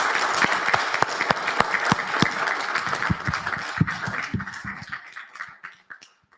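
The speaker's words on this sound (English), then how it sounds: "Could you give him another round of applause?" A lecture audience at a Mencken Day event gives a dense round of applause that holds steady for several seconds, then thins to a few scattered claps before fading out.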